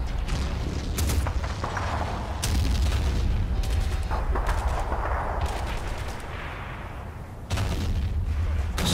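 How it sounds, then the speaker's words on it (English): Artillery fire in the Men of War video game's World War II Kasserine Pass battle, a loud, dense barrage of booms and sharp gunshot cracks with rumbling tails, near and continuous throughout. "Bren gun's proving quite ineffective at that range, so the artillery's gone involved."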